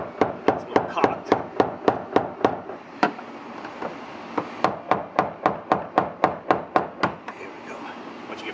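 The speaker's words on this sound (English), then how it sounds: "Just gotta tap this out." A 2005 Nissan Altima fuel pump lock ring is tapped around with a tool, a close run of sharp metallic knocks in a quick even rhythm, a brief pause, then another steady series of taps.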